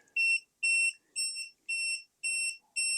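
A non-contact voltage tester held near a wall socket gives six sharp, high-pitched electronic beeps in a regular pulsing rhythm, loud and close, with silence between pulses.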